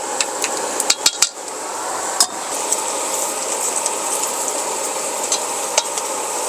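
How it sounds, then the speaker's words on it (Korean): Chopped basil and garlic are stir-fried in a pan at a campsite in Yangpyeong, with a continuous close sizzle broken by sharp clinks and scrapes of a utensil against the pan. "여기다가 이제 바질 썰었던 거 넣고 마늘을 좀 넣어줄게요."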